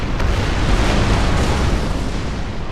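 Ship cannons firing in a naval battle in Napoleon: Total War, heard as a loud, dense, continuous rumble of merged booms with no distinct gaps and no voices.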